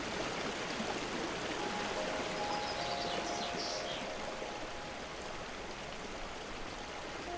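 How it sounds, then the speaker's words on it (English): A clear river runs smoothly past grassy, reed-lined banks in high summer, giving a steady, soft wash of flowing water with faint bird-like chirps above it, no voices. "There is instead a clear river."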